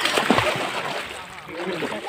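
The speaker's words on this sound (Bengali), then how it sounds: "সবাই একসাথে ডুব দাও তো একটা, একসাথে।" Rural boys diving together into a village pond, a burst of splashing and sloshing water up close, followed by softer lapping, with voices talking and calling over it.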